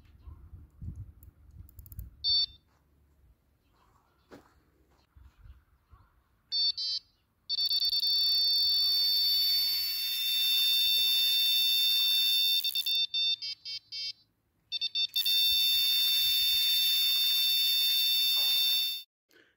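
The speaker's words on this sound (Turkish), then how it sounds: "Şimdi bir de alarmımızı bir kontrol edelim nasıl çaldığını." A carp fishing bite alarm on a Prologic Tri-Sky rod pod is set off during testing with a few short beeps, then long loud continuous electronic tones. Handling clicks and rattles are heard in the quieter stretches between the tones.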